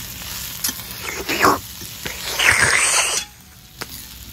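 Chicken meat sizzles and fries in a pan in a village kitchen, with bursts of louder crackling as it is stirred, then settling to a quieter sizzle near the end.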